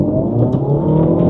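Engine of a Toyota Corolla 4WD, a barn find left parked for 16 years, running with a steady low rumble close by as it is put in gear, brief and unbroken.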